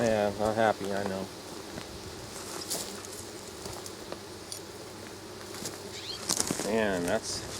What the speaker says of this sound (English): airplane's getting ready to take off in this hive right now. Some buzzing going on.